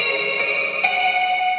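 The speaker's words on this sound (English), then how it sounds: "So I recorded that with my guitar" Electric guitar run through chorus, flanger and reverb effects, sustaining shimmering, swirling tones with a bright chord change partway through, alone with no voices.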